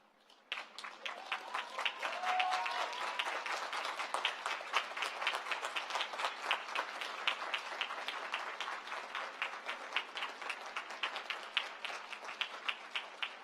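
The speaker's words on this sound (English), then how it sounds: "I would ask that we all stand and give him a round of applause" A standing ovation at a college commencement ceremony, a large crowd clapping continuously and fairly loudly for over ten seconds, sharp individual claps audible within the dense, steady applause in a big reverberant space.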